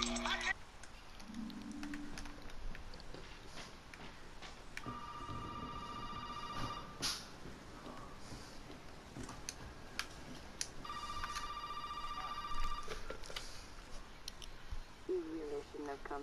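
Telephone ringing in the video game Resident Evil 7 Biohazard, two bursts of an electronic ring a few seconds apart, moderately loud over a dim, tense background with faint clicks and noises.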